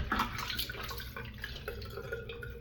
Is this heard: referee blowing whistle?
no